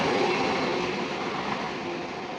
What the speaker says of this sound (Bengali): ইন্সপেকশন ট্রেন গেল